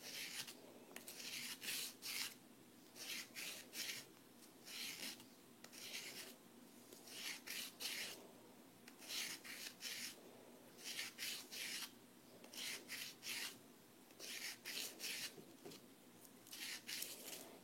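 A resin ball sanded by hand with emery paper gives rhythmic, close rasping strokes, each a short scratchy burst with brief pauses between, steady throughout with no talk.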